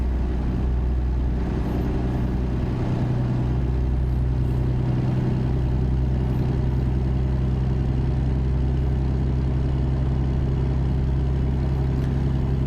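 A Cummins ISX truck engine in a truck driving video game drones steadily with a deep, smooth idle-like rumble, continuous and even throughout.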